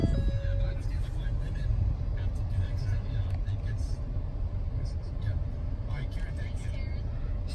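A 2017 Ford Expedition EL Limited four-wheel-drive SUV engine runs close by with a steady, loud low rumble that holds evenly throughout.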